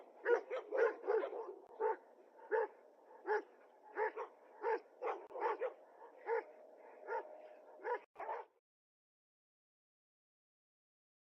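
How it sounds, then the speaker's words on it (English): Two dogs in an aggressive, attacking confrontation bark in rapid, uneven volleys of sharp barks and yips for about eight seconds, then fall silent. "Notice the aggressive attacking mode that the 2 of the dogs of Seglums go at each other with"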